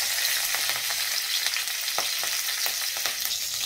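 Nigella seeds and slit green chillies hitting hot oil, a bright, continuous crackling sizzle, close and fairly loud, with no voices.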